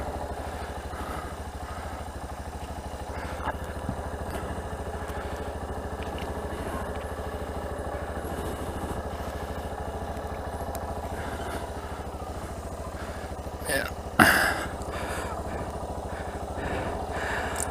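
A Yamaha Ténéré 250 motorcycle engine runs steadily throughout on a ride near caves and waterfalls, a continuous low mechanical drone with a brief clattering bump near the end, loud and close.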